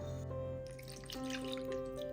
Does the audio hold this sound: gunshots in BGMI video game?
no